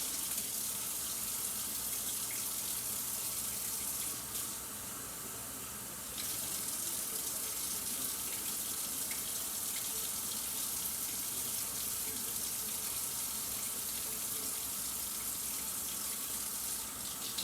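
A kitchen tap runs into a sink while canned beans are rinsed, a steady close hiss of running water that continues for the whole stretch, with a brief dip in the flow partway through.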